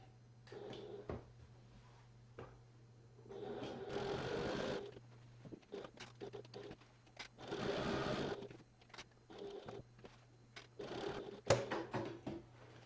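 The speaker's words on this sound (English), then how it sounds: "now I'm going to sew around all 4 sides of this box" A sewing machine stitches around the sides of a duffel backpack, running in several bursts with pauses between them. Clicks and handling noises fill the gaps over a low steady hum, close and fairly quiet.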